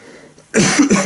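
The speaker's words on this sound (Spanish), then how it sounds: "es que tengo aquí un carraspeo" A single loud, close throat clearing during a Spanish-language philosophy lecture, a rough burst of about half a second after a quiet moment.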